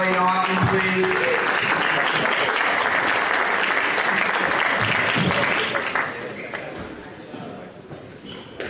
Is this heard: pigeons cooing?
no